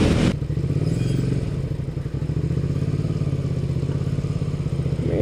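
A motorcycle cruises at about 35 mph on a wet morning road, its engine holding a steady, close drone with some clatter and rumble running through the whole stretch.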